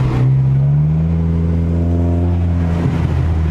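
An Audi R8 engine revs loudly and steadily up close, its pitch rising then holding in a sustained roar with a faint turbo whir on top, and no voices.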